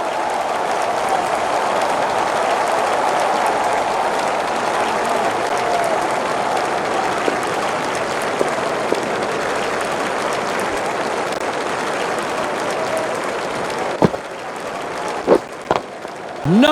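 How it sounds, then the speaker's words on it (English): Crowd applause from a cricket video game rises after a boundary shot, a steady wash of clapping and cheering that carries on throughout, with a few sharp clicks near the end. "Good shots, and it's in the gap. The crowd applaud."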